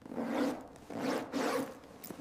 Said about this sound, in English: I zip my jacket.